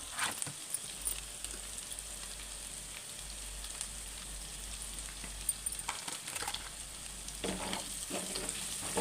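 Potato fry with salt and paneer masala sizzles steadily in a pan while a spatula stirs and scrapes in a few clustered strokes near the end, close and without talk.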